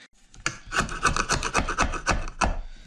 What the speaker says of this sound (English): something like a gasket scraper or a razor blade scraper kind of comes in handy